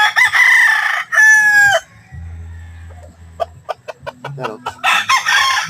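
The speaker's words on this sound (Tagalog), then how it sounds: "Ganda ng lahi ng mga manok na to." Roosters crow loudly and close in a backyard chicken yard, one long crow opening, another joining near the end, with hens clucking in between and someone speaking briefly.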